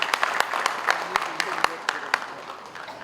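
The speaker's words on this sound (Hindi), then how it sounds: "उन सबके लिए आप तालियों से अभिवादन करें" Applause from the audience at the Sarvottam Nagrik Samman civilian honour ceremony, a steady patter of clapping punctuated by sharp individual claps, with some voices mixed in underneath.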